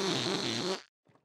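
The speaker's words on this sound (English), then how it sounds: "That was a fake fart, because I couldn't summon up a real one to express my disgust with your acting." A cartoon character produces a fake fart in one loud, buzzing burst lasting under a second, followed by a brief faint trailing sound.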